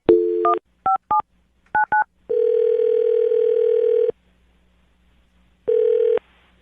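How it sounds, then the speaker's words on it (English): A telephone line sounds a quick run of dual-tone keypad beeps as a number is dialed, then a long steady dial tone, a pause, and another stretch of tone, loud and clean with no talk. "I'm going to dial his phone number now"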